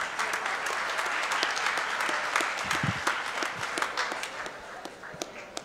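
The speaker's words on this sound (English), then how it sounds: "a big round of applause for our tweeting social media medical interpreters" A conference audience applauds at a medical interpreter national certification launch, a dense steady patter of many hands clapping throughout, moderately loud with no talk over it.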